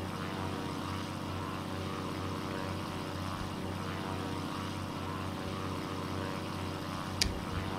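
A toy plane flies in a moon-set skill video game, its propeller-like engine drone running steady and continuous throughout, with a brief sharp click near the end.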